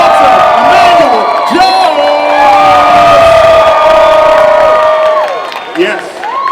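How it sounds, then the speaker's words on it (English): A panel crowd at LA Comic Con 2018's Mighty Morphin' Power Rangers 25th Anniversary cheers, whoops and claps for a guest being introduced. The loud, sustained roar of voices sounds up close, with an amplified announcer's voice over it, and fades slightly near the end. "Start clapping your hands right now."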